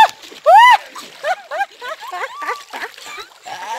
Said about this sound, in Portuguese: eu caí, gente, na água aqui